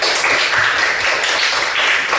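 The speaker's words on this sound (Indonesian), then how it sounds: "Sekali lagi tepuk tangan semuanya." Steady, dense applause from a group during a coaching session for academic supervision, many hands clapping together continuously at an even level throughout.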